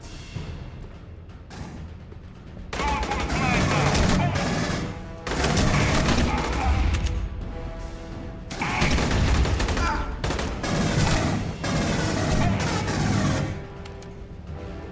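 Heavy gunfire from a weapon in the sci-fi shooter game Aliens: Colonial Marines, loud rapid bursts in several long stretches separated by short quieter gaps.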